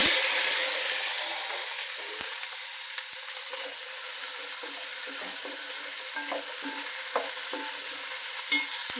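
Vegetable pieces frying in a pan for Andhra pappu charu, a loud, close, steady hiss that eases slightly after the first seconds, with soft irregular stirring clatter underneath.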